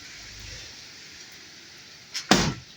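Heavy rain falling into a house, a constant hissing wash of water throughout, then a couple of sudden loud whooshing splashes close by near the end.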